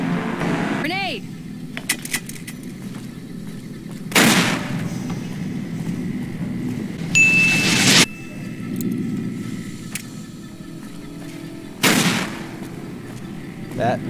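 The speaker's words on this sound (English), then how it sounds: "Grenade!" Grenade blasts and gunfire from the Fallout New Vegas video game come as three loud, broad bursts spread across a quieter stretch, with a person talking between them.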